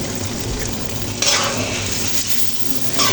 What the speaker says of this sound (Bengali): এরপর এই পুঁটি মাছগুলো ভালো করে কষে নেব